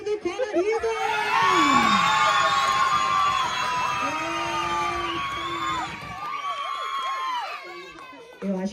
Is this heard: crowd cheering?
yes